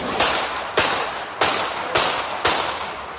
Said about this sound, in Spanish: Padlo celkom 5 výstrelov.